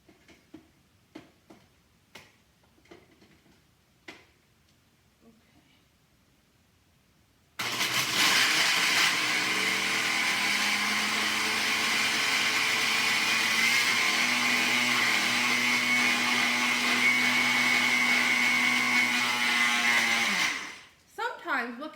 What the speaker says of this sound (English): I'm going to take our smoothie over to the blender and blend it up for us to enjoy